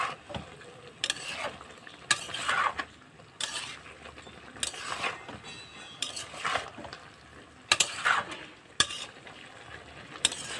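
A spoon stirring mixed vegetable curry in a pan, a series of scraping strokes and knocks in an uneven rhythm over a low sizzle, close and with no voices.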